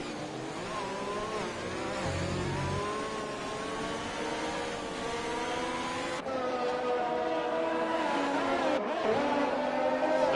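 Two Renault race cars run side by side in a French Grand Prix esports racing game, their engines whining and shifting pitch together steadily and loudly for ten seconds, with gear changes and no talk.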